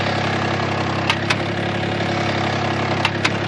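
A Kubota ZD1011 zero-turn mower's engine idles steadily and loudly up close, a constant low drone with a couple of faint clicks, no talking.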